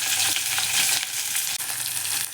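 Cumin and mustard seeds crackle in hot oil as green chillies, curry leaves, coriander and crushed garlic go into the tempering, a loud, close, continuous sizzle with a brief stir.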